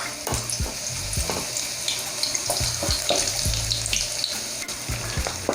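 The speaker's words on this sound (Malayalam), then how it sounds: "എണ്ണ ചൂടായി കഴിഞ്ഞാൽ നമുക്കിനി ഇതിലേക്ക് ക്യൂബ്സായി കട്ട് ചെയ്ത് വെച്ചിരിക്കുന്ന സവാള ഇട്ട് കൊടുക്കാം." Cubed onions sauté in hot olive oil for a white sauce chicken pasta, giving a steady, close sizzle broken by occasional scraping stirs and soft knocks in the pan.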